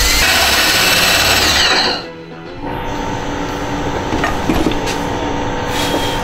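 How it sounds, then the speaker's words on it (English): A power drill drilling a hole in a cigar box for a guitar build whines steadily for about two seconds, cuts off, then a lower continuous mechanical hum with small clicks carries on. "I just kind of pull them off to the side like that and drill my hole."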